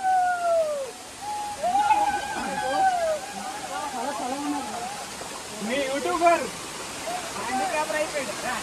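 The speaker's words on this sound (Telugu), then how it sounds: "finally finally Katika water falls" Katika waterfalls at Araku roar as a constant broadband rush of falling water, with people's voices rising over it now and then.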